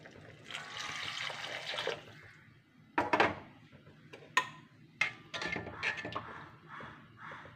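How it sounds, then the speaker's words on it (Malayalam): Tamarind water poured into a pot of rasam on the stove, heard as a faint, soft, splashy trickle of liquid followed by a few sharp clinks and taps of a utensil. "ഇതൊരു പുളി പിഴിഞ്ഞ വെള്ളമാണ്. ഇതും കൂടി ഒഴിക്കാം."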